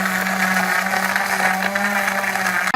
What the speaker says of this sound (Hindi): ये हम इसके अंदर वाटर डाल के इसको ग्राइंड कर लेंगे